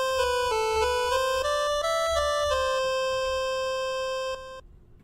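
An 8-bit 25% pulse waveform in FamiSynth plays a short stepping melody of thin, buzzy beeping notes, each held briefly, before a final sustained note cuts off into near silence.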